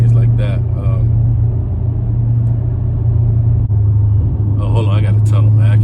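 Dodge Challenger 392 engine rumbling loudly inside a tunnel, a deep steady roar throughout with a voice talking briefly at the start and end.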